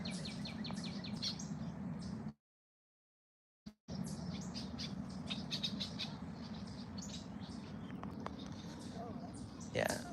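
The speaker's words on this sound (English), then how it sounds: "We got a little red-winged blackbird here." Bird calls outdoors, a red-winged blackbird among them: bright repeated chirps and tweets over a steady broad background hiss, with a brief dropout partway through, fairly faint overall.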